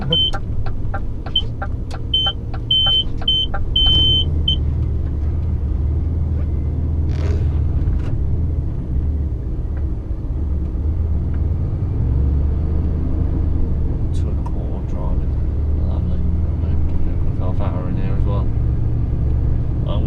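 A car being driven, with a steady low engine and road rumble running throughout, a few short repeated beeps near the start, and occasional clicks and knocks from inside the cabin.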